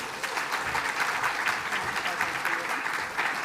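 Audience applause at the New Zealand Volunteering Awards, honouring shortlisted Emerging Leader award winners: steady, dense clapping from a sizeable crowd, moderately loud and continuous throughout, with faint voices mixed in.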